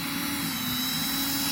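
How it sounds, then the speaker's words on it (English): An electric drill backs a bolt out of an RV door lock, a steady close whirring motor drone held throughout with no pauses. "Use the electric drill."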